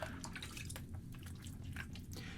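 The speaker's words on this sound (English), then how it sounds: "got water flowing everywhere" Water drips and splashes at a bathroom sink during a wet shave, a few faint, irregular drops and trickles over quiet room noise.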